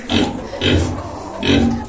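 Pigs on a farm grunt loudly and close by, three rough snorting bursts in a steady rhythm with short gaps between them, and no talking.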